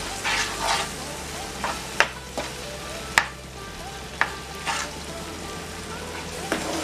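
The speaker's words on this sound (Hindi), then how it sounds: "और हमें इसे सेकना है जब तक कि जो सूजी का कलर है वो हल्का सा ब्राउन की तरफ ना आ जाए।" Semolina roasts in ghee with bananas as it is stirred, a soft steady sizzle broken by repeated sharp spoon knocks against the pan, with a voice talking over it.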